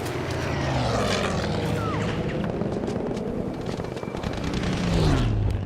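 Low-flying propeller warplanes roar overhead in the video game Battlefield V, a loud continuous engine drone with passing swells and a pitch dip near the end, no speech over it.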